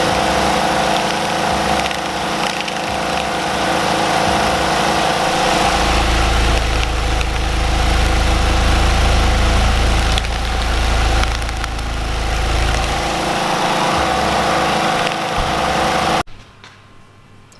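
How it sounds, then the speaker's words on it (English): A homemade vibration polisher runs loaded with Datsun 260Z fuel tank bolts, giving a loud, steady rattling hum with a heavier rumbling stretch midway before cutting off abruptly near the end. "So that is 2 hours in the vibration polisher."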